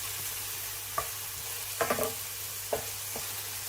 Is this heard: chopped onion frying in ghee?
yes